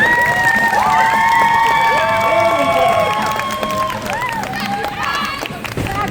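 A crowd at a world oddities expo show in Raleigh, North Carolina, claps, cheers and shouts loudly and steadily for a strongman performer, with high whoops rising above the dense roar before it eases slightly near the end.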